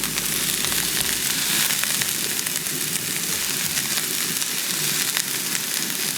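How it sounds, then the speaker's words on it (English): Noodles hit a hot pan and fry with a steady, loud hiss and crackle that holds evenly throughout. "Just gonna get a little heat on these. Noodles going in."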